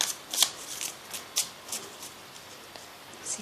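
Tarot or oracle cards shuffled by hand for a card reading, making soft riffling and papery flicks in uneven bursts, close and quiet.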